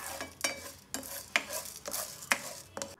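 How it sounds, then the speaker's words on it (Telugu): Urad dal frying in a teaspoon of ghee in a pan, with a spatula stirring and scraping in close, rhythmic strokes over a soft sizzle, no speech. "ప్యాన్లో ఒక టీ స్పూన్ నెయ్యి వేసుకొని వేడెక్కిన తర్వాత మినప్పప్పు గుళ్ళు వేసుకొని వేయించండి"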